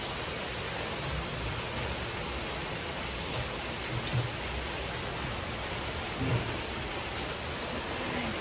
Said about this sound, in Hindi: अब हुई ना बारिश। मैं यहाँ खड़ी होकर बारिश देख रही हूँ